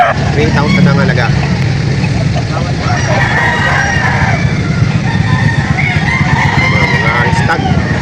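Stag roosters crow and cluck amid a busy, noisy crowd at the Lipa poultry auction market, the calls moderately close under constant chatter and background bustle.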